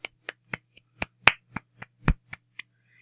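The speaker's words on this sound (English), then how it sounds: "Everybody give a round of applause." About a dozen separate, sharp claps spaced roughly a quarter second apart, sounding like one or two people clapping close by in a quiet room for a guest on a radio show.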